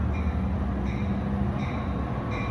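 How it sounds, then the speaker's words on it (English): A Long Island Rail Road train arriving on the Main Line from Grand Central gives a steady, close rumble with a faint high metallic ring riding above it, and no voices. "as a Grand Central train arrives"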